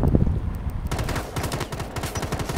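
Rapid automatic gunfire in the video game Rainbow Six Siege, dense bursts of shots from close range that run continuously and grow sharper and more rhythmic after the first second.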